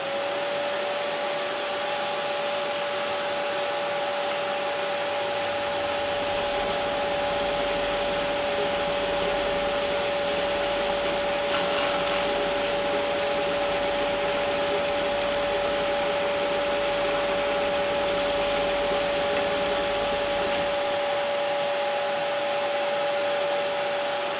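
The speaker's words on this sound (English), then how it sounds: "Vacuum on." A vacuum runs on a Safe-T-Planer fitted to a pillar drill with a steady, loud whine and rushing airflow, unbroken throughout, with a brief rattle partway through.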